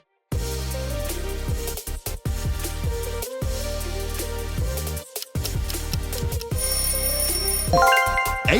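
An Asus smartphone ringtone loops a rhythmic, plucky electronic melody with short pauses between phrases, loud and close, ending in a rising run of bell-like tones.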